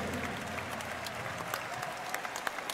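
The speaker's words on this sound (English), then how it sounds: "Everyone, please clap your hands for ARKANGEL." An esports crowd applauds the Philippine team ARKANGEL after their lower bracket finals loss at MSC 2019, a steady, fairly soft wash of clapping with scattered sharper claps throughout.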